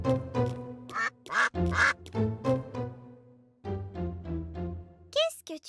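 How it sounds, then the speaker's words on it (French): Ducks quack in a video game, with a close, loud series of nasal calls in irregular bursts, some short and some drawn out, and brief gaps between them. "Des canards!"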